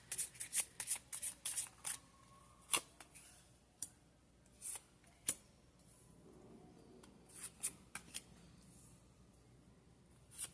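Gypsy fortune-telling cards are shuffled and snapped close up, in quick bursts of crisp flicks and taps with pauses between them. The setting is quiet and no one speaks.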